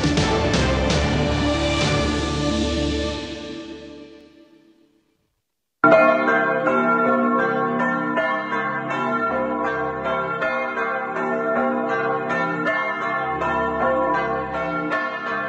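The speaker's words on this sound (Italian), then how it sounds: "Sono tornate a suonare ieri pomeriggio le campane di Sant'Ulderico di Dolina" The church bells of Sant'Ulderico in Dolina, near Trieste, ring out loudly, fading into silence, then a fresh peal of several bells starts up and keeps chiming steadily.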